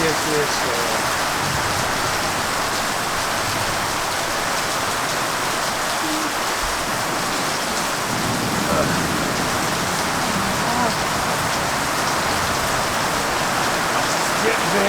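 Steady rain pours down in a dense, even hiss, drumming on surfaces close by without letup.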